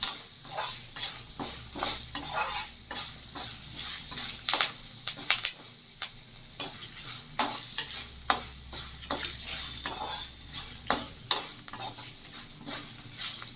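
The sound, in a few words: stirring and roasting tempering for mango rice in a pan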